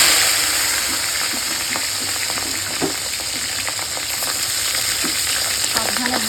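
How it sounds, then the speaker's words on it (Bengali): Catla fish pieces frying lightly in hot oil, a steady loud sizzle with scattered pops and small crackles throughout, no voices. "তো চলো মাছটা আগে হালকা করে ভেজে নেব"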